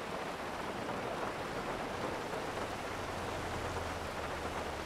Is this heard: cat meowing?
no